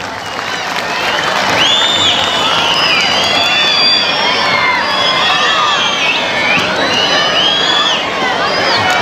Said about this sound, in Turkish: Mus'hab Çiftçi kardeşimizi bir alkışlayalım o zaman